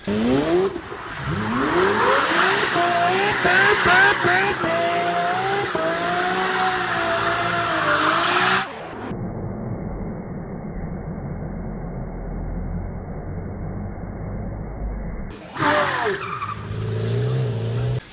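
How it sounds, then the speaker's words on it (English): A Lamborghini Murcielago LP640 exhaust revs loudly and up close, its pitch climbing and falling over several seconds, then continues as a muffled, filtered engine drone before a brief loud burst returns. "So for me, the sound of this car, exhaust wise, is almost perfection."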